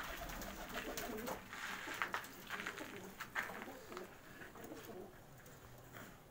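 Breeder pigeons, including a black pigeon, cooing at a loft, soft low calls under a steady wash of outdoor noise with a few brighter chirps, faint and somewhat distant.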